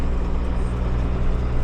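A John Deere farm tractor engine runs in gear while the tractor slides, making a steady, loud, close diesel drone with a fast, even low throb. No one speaks.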